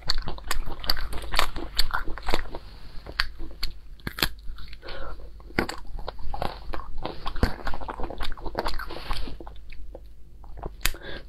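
Fresh lotus seeds being bitten and chewed up close, with repeated crisp crunching bites and wet mastication in an irregular rhythm, loud and intimate with no talk.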